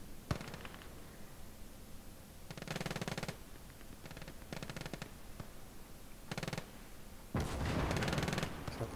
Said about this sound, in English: It's like the machine gun nest has found some people with the machine gun.